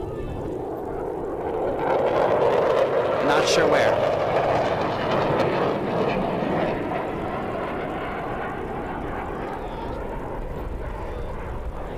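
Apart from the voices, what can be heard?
jet aircraft flying over an airshow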